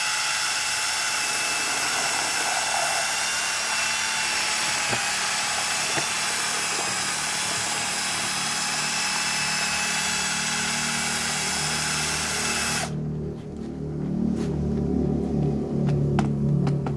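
Power drill whirring steadily as it stirs a fertilizer mixture of animal manure and liquid organic fertilizer, loud and continuous, the pitch dropping and churning more heavily near the end.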